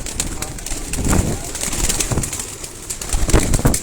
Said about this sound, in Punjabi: ਕਬੂਤਰ ਜੇਠ ਵਾਸਤੇ ਤਿਆਰ ਹੋ ਰਹੇ ਨੇ ਜੀ